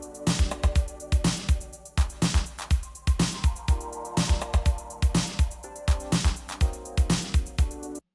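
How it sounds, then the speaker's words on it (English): Repetitive synth chords from an electronic track ride over a steady electronic drum beat, the same chord stabs cycling in regular rhythm throughout, full and moderately loud with no voices. "And then the chords are coming, and the chord sounds like this."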